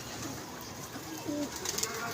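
Pigeon cooing softly near a pigeon club loft, a few low murmuring coos amid faint background noise and light handling sounds.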